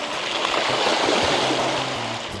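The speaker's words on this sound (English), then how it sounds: "we've got a creek here, so let's see, it's probably deeper than it looks" A mountain bike wades through a creek on a Henry Coe trail in the Bay Area, with a steady rush of splashing, churning water close by for the whole moment.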